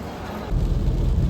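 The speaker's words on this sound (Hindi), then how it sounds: "ताबड़तोड़ बारिश शुरू हो चुका है।" Heavy rain pounding down during a solo road trip from Delhi to Kolkata, a sudden dense downpour roar that surges in loudly halfway through and stays steady.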